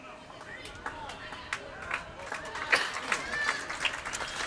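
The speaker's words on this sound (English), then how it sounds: "We've got the Goodwood crowd getting a little bit vocal." A crowd at a Goodwood bowls final, the SA Masters Singles Championship, cheers and claps in scattered bursts that build toward the end, heard from a distance with a commentator talking over it.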